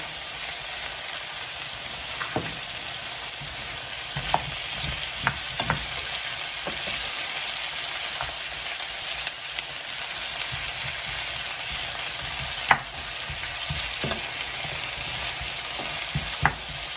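Zucchini and green beans frying in a pan for several minutes, a steady dense crackling sizzle throughout with occasional louder pops and stirring clicks, close and continuous with no talking.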